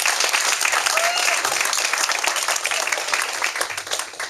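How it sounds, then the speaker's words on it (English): A crowd at a Democratic political event at Flanagan's with Senator Dick Durbin breaks into a sustained round of applause, dense and even clapping filling the room for several seconds, with some crowd noise underneath. "So just give a round of applause for that."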